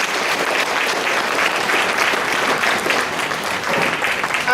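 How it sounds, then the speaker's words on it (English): Sustained audience applause fills a middle school honor's night banquet as all award recipients are recognized, a dense, steady wash of clapping from a crowd with no break throughout. "Let's give all of our recipients a round of applause."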